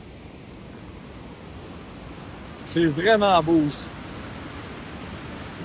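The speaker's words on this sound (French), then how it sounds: "Cascade sur ce côté-là, ça descend dans la gorge." Waterfall cascading down into a rocky gorge, a constant loud rush of falling water that continues throughout, with someone briefly speaking over it.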